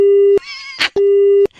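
A loud, steady phone tone sounds as a call is cut off, in two long identical beeps separated by a brief crackly gap.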